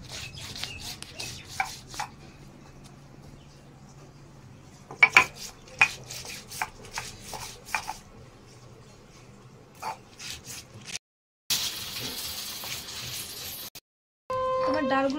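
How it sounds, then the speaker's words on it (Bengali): Matar and khesari lentils are ground into paste on a grinding stone: a soft, irregular scraping with rubbing strokes and occasional sharper knocks, fairly quiet and close, with a brief louder rasping stretch near the end. "আমি এখন ডালগুলো বেটে নেব।"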